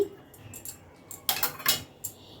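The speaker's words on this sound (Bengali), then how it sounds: "আবার সব কিছু ভালো করে মিশিয়ে নিচ্ছি।" A spoon stirs softened methi greens in a cooking pan, giving a few quick metallic scrapes and clinks close by, with the loudest strokes bunched near the end.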